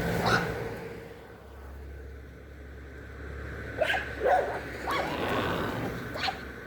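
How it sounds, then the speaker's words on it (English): Dogs barking outdoors, heard from a distance in a few short bursts and yelps over steady background noise. "Oh my goodness, the dogs are bad today. I apologize for all the noise."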